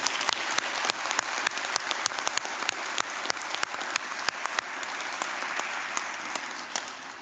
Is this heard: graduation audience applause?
yes